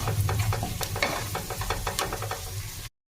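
Garlic sizzles and crackles in hot oil, with a steady frying hiss and light stirring clinks throughout, close up, no voices.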